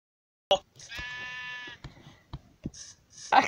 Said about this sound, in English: I kind of want to kill the sheep